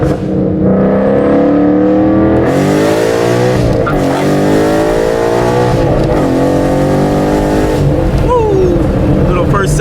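A 2014 Ford Mustang engine revving hard through a first gear pull, loud and continuous with rising and falling pitch sweeps as it winds up and shifts.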